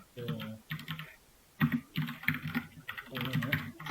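Code is typed on a computer keyboard in quick bursts of close, crisp key clicks with short pauses between them, and a voice talks quietly underneath.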